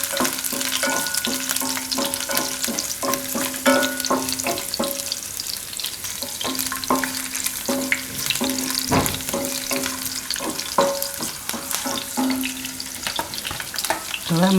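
Ginger, green chili and garlic tossed into hot oil for a bottle gourd chutney, a loud close sizzle with rhythmic spoon scrapes and clinks stirring through the pan, steady and without talk.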